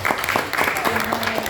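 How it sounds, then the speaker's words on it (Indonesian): Brisk audience clapping rises during the closing session of an education coordination meeting, individual claps standing out over a murmur of voices for a second and a half. "Kita beri tepuk tangan juga buat"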